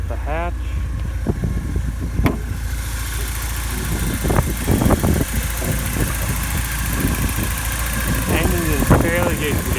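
1986 Porsche 944 engine idling with a steady low rumble throughout, while a person talks over it and something knocks or thumps at about two seconds.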